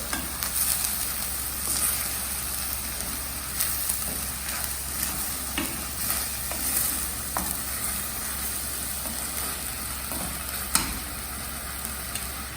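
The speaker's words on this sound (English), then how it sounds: "Stir." Dal and rice in a cooking pot with red chili powder and coriander being stirred, a continuous moderate sizzle with faint scraping strokes running throughout and a low steady hum underneath.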